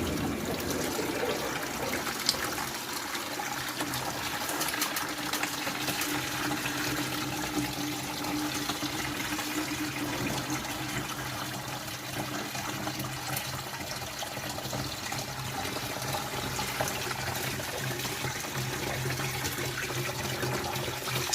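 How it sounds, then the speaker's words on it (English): Water back-flushes through the heat exchanger of a blocked central heating boiler, giving a steady, low-level gurgling trickle and rush that runs unbroken for about twenty seconds with no voices. "And we're going to back flush that now"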